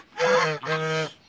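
Geese honk loudly and close by at morning feeding time on a poultry farm, two drawn-out nasal calls in quick succession with no one talking.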